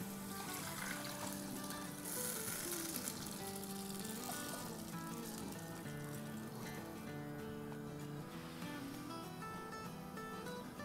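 Water with rice and lentils pours into a cooking pot while making dal rice, heard as a steady, continuous watery rush and trickle that holds at an even level for the whole stretch, with no talk.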